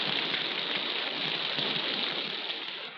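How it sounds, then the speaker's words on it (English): Rain in a jungle pours down steadily in a constant, even hiss, fairly close and unbroken throughout. "Even the rain works for them, filling open containers with good drinking water."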